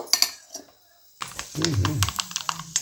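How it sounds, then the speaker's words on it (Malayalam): Mustard seeds popping in hot coconut oil while tempering a bitter gourd curry, a short gap of quiet and then a busy run of sharp, close crackles and ticks over a low sizzle. "കടുക് പൊട്ടി"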